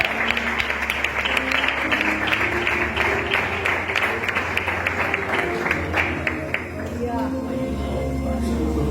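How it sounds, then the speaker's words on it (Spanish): Church congregation applauding, a dense steady wash of clapping lasting several seconds, with a low hum and some voices mixed in underneath. "aplauso al Señor"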